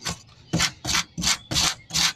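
Rhythmic scrubbing of a Mercedes-Benz C230 cylinder head during repair, five or six loud back-and-forth strokes close to the microphone, each a coarse rasping rub.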